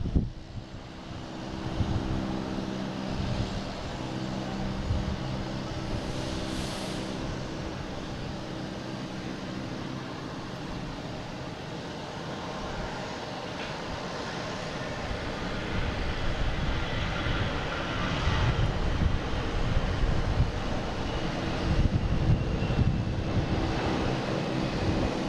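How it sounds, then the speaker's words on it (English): A Sun Country airliner arriving from Minneapolis at Boston Logan International Airport, its engines a steady broad roar with wind noise that swells slightly toward the end, sustained and fairly distant, no voices. "next coming in, we have Sun Country coming in from Minneapolis"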